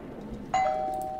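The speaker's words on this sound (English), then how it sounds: "Ring the doorbell." A two-tone doorbell chime rings once in the video game Twelve Minutes, a clear bright ding-dong standing out over faint room ambience.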